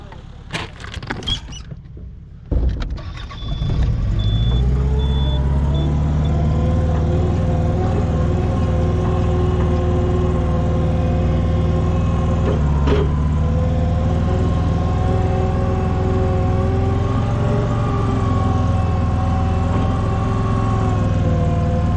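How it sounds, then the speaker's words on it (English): A skid steer on a stump grinding cleanup job roars to life after a few clanks, then holds a loud, steady diesel drone while pushing dirt, with a single sharp knock partway through. "I'm going to take the skid steer and push this out of the way"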